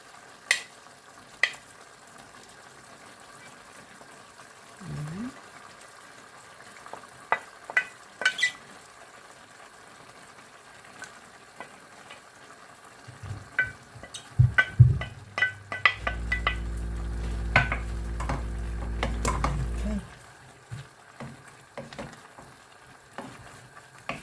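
Green beans hit a pan with pork belly and start to sizzle, after scattered clinks and scrapes of utensils on cookware; the frying builds into a steady hiss midway and then fades back to quiet stirring.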